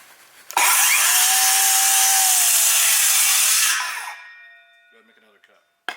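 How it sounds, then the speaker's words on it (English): A Metabo HPT MultiVolt 36V 7-1/4 inch cordless circular saw spins up and rips through wood in one loud, sustained cut of about three seconds, then winds down and stops. "Multivolt 7 1/4 cordless circular saw, and Jeff's going to run a couple cuts here"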